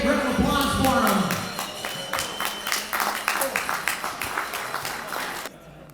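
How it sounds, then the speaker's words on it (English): A wedding audience applauds a speaker. Clapping swells at once over lingering voices and chatter, settles into individual claps and cheers, then drops away sharply near the end. "everybody, a big round of applause for him"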